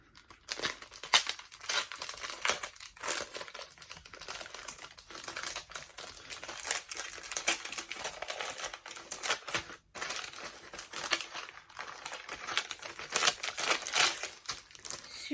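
A plump padded envelope is torn open by hand, with close, quiet bursts of crinkling and tearing paper, irregular rustles and a few sharp rips, heard alone without talking.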